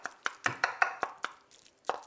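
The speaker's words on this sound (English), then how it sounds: "I'm just chopping it up" A knife chops stir-fried egg on top of Thai fried rice on a cutting surface, about nine sharp, close taps in a quick uneven rhythm with a short pause before the last.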